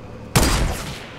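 A single loud, close gunshot in Fortnite Battle Royale, a sharp crack followed by a decaying boom and reverberant tail that fades over the next second.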